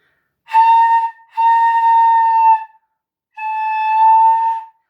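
Two clear, sustained flute tones on the same pitch, played alone with a short gap between them; pure and steady.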